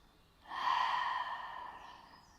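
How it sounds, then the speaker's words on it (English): A slow exhale through the mouth during a yoga session: one soft breathy whoosh that swells and fades over about two seconds, close and quiet. "Then exhale slowly through your mouth, releasing any tension or stress with each breath."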